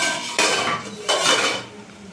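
A pot lid lifted off a pot of chicken singara filling after about fifteen minutes of simmering, with two bright metallic clanks and scrapes close by, the second a little after the first, each trailing into a rattly ring.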